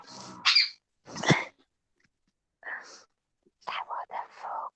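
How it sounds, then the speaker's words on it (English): A dog in a home makes short whining, grumbling noises in scattered bursts between quiet gaps, close by, mixed with hushed whispering voices. "The dog's making more noise than I am."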